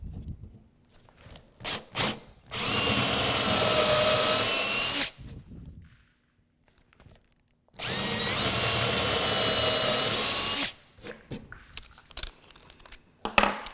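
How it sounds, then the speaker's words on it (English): A power drill fitted with a 5/16-inch bit bores holes for a marshmallow catapult build, in two sustained bursts of about two to three seconds each, separated by quiet pauses and light handling clatter. "and I'll drill those holes."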